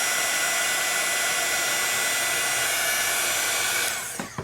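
A heat gun blasts a steady, loud broadband whoosh while melting embossing powder on layered stencil ink work, running continuously before cutting off abruptly near the end.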